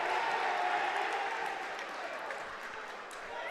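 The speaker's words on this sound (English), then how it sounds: "listen to this crowd go wild" Crowd in the stands at a high school wrestling dual meet, Campbellsport at Omro, roaring and cheering in a dense, steady wash of noise that eases slightly toward the end.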